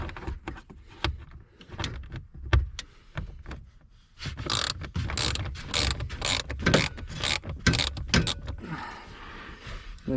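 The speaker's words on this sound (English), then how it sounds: "I may have to get a little extension for my ratchet to get this out" Ratchet wrench loosening a bolt on the blower motor of a 2003 GMC Sierra, a close run of rapid metallic clicks in irregular bursts, growing denser and steadier in the second half.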